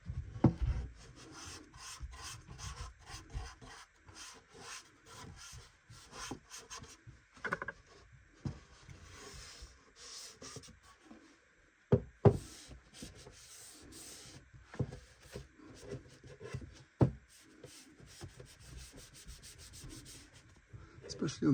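Fine-grain sandpaper rubs over the wood of a handmade seven-string lyre in irregular scratchy strokes, close and dry, with brief pauses and a few sharper knocks along the way.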